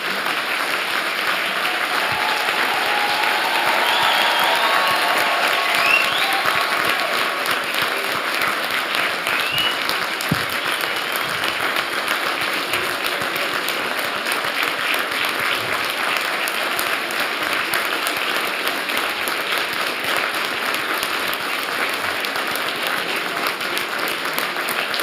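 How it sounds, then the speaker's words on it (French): A large audience at a doctoral graduation ceremony applauds in a steady, dense, even roar that lasts about twenty-five seconds without a break. "on peut vous applaudir tous ensemble."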